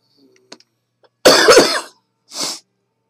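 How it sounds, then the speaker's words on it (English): A person coughs in the morning: a few faint clicks and breaths, then one harsh, drawn-out cough burst followed by a shorter second cough, close and isolated against silence. "I apologize for the morning coughing"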